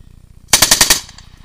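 A short burst of automatic gunfire during a firefight in Marjah, Afghanistan: five rapid loud shots in quick succession, close and sharp, after a faint rhythmic background hum, with no speech.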